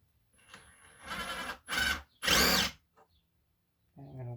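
A power drill runs in three short bursts near a Panasonic subwoofer while trying to back out its screws, with a brief gap between each whir and a short voice near the end.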